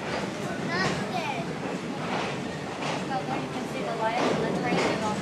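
Chelatchie Prairie Railroad passenger train running toward a rock-cut tunnel, a steady rumbling roll with rattling from the cars, heard from on board, with voices talking over it.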